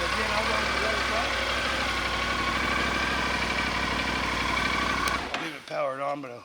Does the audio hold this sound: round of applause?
no